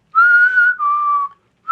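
A person whistles in a dark, empty corridor, imitating an unexplained whistle: two clear, sustained tones, the second slightly lower, then the start of a third, loud and close with no other sound.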